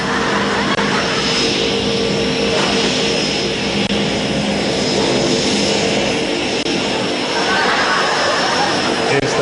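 Loud, steady roar of an airplane in flight, heard from inside the cabin, a continuous engine drone filling the whole stretch with a faint voice underneath.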